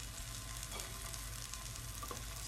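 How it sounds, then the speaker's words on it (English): Eggplant sizzles and crackles steadily in a frying pan as it crisps, a soft continuous hiss with small pops, heard up close without talk. "you're just going to let that crisp up a little bit in the frying pan"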